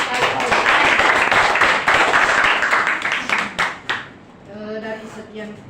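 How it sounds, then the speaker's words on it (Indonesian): Dense audience clapping fills the room for about four seconds, fading out as a speaker's voice takes over at the end. "kita kasih aplaus sekali"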